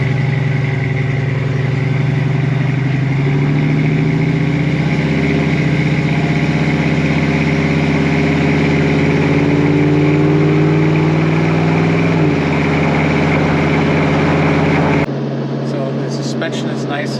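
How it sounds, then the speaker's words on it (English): A 1970 Chevrolet Camaro 396 SS with a numbers-matching L34 396 big block V8 rumbles loud and close, holding a deep steady note with small rises in revs before cutting off abruptly near the end. "it makes a phenomenal big block sound. It sounds right for a 396"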